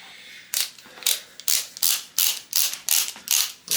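Ratchet wrench torquing bolts on a BMW M54 2.5L engine during a high-compression build, giving about ten loud, evenly spaced rasping clicks, close up with no talking.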